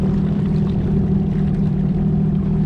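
A Sea-Doo Spark Trixx jet ski engine runs at a steady idle, a constant low droning hum with no variation and no talking.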